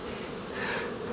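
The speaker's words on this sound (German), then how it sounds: "Unheimlich viele Bienen, unheimlich viel Pollen." Honeybees fly around a hive entrance in a dense, steady buzzing hum, close and continuous, with no voices.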